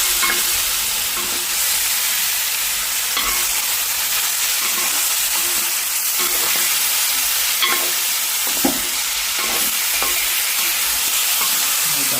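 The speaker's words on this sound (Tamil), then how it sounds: "அதை பொரிச்சு எடுக்கிற மாதிரி எடுத்து விடணும்" Fish frying in hot oil gives a loud, dense, steady sizzle and crackle close by, with occasional soft knocks and stirring touches scattered through.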